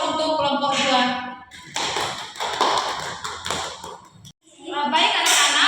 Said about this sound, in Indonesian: Kita beri aplaus untuk kelompok 2.